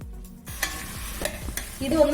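Crushed ginger, garlic and curry leaves frying in hot coconut oil for fish biryani, a close sizzle punctuated by several soft stirring knocks and scrapes, growing louder at the end.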